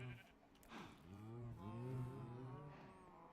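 Sheep bleat on a farm in the Minecraft video game, several wavering, overlapping baas rising and falling over a low background hum, fairly quiet and with no speech.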